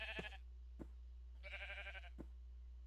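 Sheep in a Minecraft mod pack video game bleat twice, each a wavering synthetic baa with a few soft thuds between, over a steady low hum and no talking.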